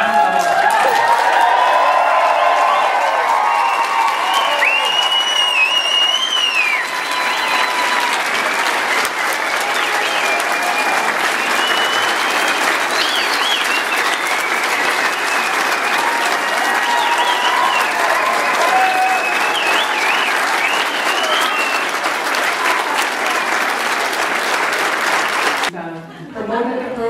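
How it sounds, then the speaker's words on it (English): A large crowd at a nursing degree graduation ceremony applauds continuously for nearly half a minute, loud sustained clapping with scattered cheers and voices mixed in, ending abruptly. "Everybody's got to give these people a round of applause."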